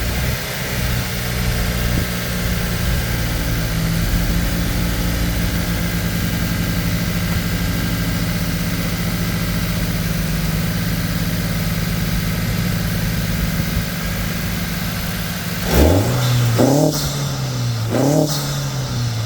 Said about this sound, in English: after all that cool intake revving